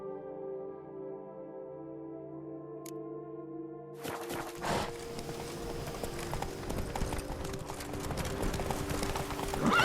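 Geralt's horse Roach from the video game The Witcher 3 breaks into a gallop after a quiet, tonal opening, with steady rhythmic hoofbeats growing louder and denser over a busy game soundscape, without any talk.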